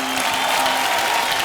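Studio audience applauding on a Hindi TV game show, steady dense clapping with crowd murmur and faint music tones underneath, continuous throughout.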